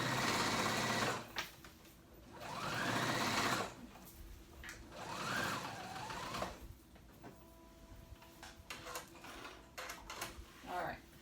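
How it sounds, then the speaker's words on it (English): Sewing machine top stitching a curved seam on kids' moto-style pants, running in several steady bursts with pauses between, fairly close, while a person speaks briefly. "Top stitching that curve."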